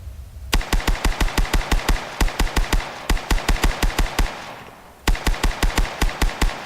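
An M7S submachine gun with its suppressor off fires in Arma 3 with the OPTRE mod, in repeated loud, close bursts of rapid shots with short pauses between them.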